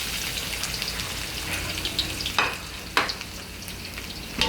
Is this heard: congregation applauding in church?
no